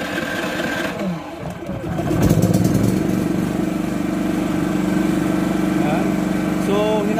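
A Philking 4200 generator is started with its push-button starter, a brief cranking and catch giving way to a loud, steady running drone close by, with a person speaking over it.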